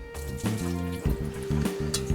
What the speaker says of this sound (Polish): Tu się zebrało sporo wody. Wyleję ją.